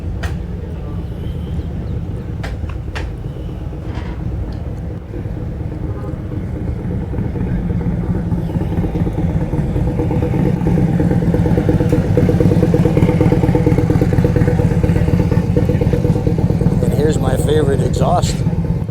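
A motorcycle engine rumbles nearby in the Destination Daytona vendor area at Daytona Bike Week, a low steady exhaust note that swells gradually louder over the clip amid outdoor crowd noise and voices.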